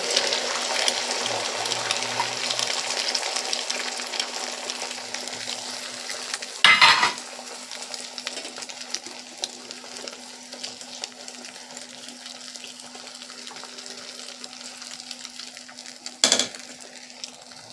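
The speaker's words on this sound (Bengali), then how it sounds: "আমি ঘিটা দিয়ে ভালো করে কড়াটা নিয়ে নিয়েছি এবার এখানে দুখানা ডিম আমি দিয়ে দিলাম" Two eggs cooking in ghee in a wok: a bright, crackling sizzle that gradually fades and is broken by two short bursts of clattering metal.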